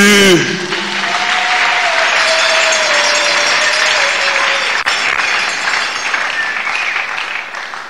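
A church congregation applauds together in a sustained, loud, dense burst of clapping that fills the room and slowly tapers near the end, with a voice briefly audible at the very start.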